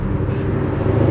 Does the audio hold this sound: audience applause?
no